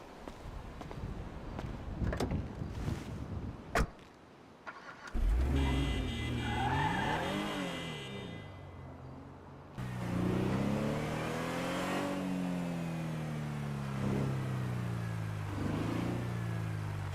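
Video game car in a crime story, engine revving hard and roaring up through gears with a tire squeal, loud and close, after a burst of sharp clicks and knocks.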